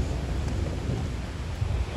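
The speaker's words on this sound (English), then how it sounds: "Thunder." Low thunder rumbles through steady rain on a wet outdoor hiking trail in a park, a deep rolling sound with no talking over it.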